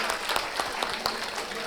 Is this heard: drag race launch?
no